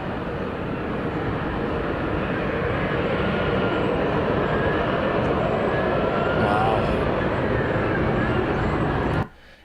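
An F-35B Lightning jet hovers with a loud, continuous broadband roar that stays steady for several seconds before cutting off abruptly at the end; no one speaks.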